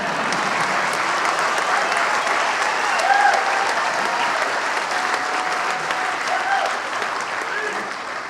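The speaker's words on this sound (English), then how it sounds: "Okay, you can applaud." Audience at a Fall 2010 university commencement ceremony in Hawaii applauding graduates after degrees are conferred: sustained, dense clapping across a large crowd, steady throughout with a slight swell midway and a few scattered whistles or cheers.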